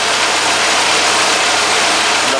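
Ford Galaxy engine idling in a garage with the radiator cooling fans running, a steady, loud broadband whir and hum that holds evenly throughout with no talk.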